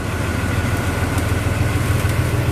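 A second-hand Japanese-made boat engine runs on a ferry trip in Vietnam, a steady low rumble that holds evenly, loud and close, with no talk over it.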